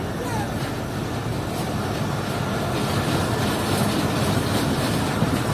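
Marvi passenger train in the Thar Desert, a loud, steady broadband roar of rolling wheels and rail noise running unbroken throughout, close and dense, with faint voices mixed in.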